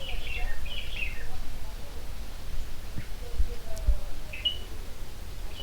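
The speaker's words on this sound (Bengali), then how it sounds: "একটা পাখি ডাকছে আপনারা শুনতে পাচ্ছেন কিনা আমি জানি না" Faint bird calls chirp a few times in the distance in the forest on Susunia Hill, over a steady outdoor background hiss.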